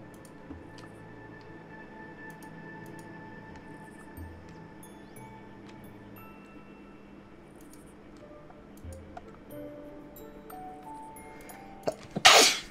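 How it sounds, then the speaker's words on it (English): A game character sneezing in the city-building game Universim, one sudden loud sneeze burst near the end after a long stretch of quiet background game ambience and faint clicks, no talk. "That sneeze."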